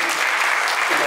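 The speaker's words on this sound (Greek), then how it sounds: "Ένα θερμό χειροκρότημα" Warm applause for children at a St Demetrios community celebration, a brief steady wash of clapping heard mid-flow, moderately loud.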